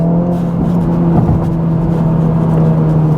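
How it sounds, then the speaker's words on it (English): A turbocharged Acura Integra Type S runs in Sport Plus mode, its engine holding a loud, steady close-up drone with a faint burble, and no voices. "We got a little bit of burbles going on there."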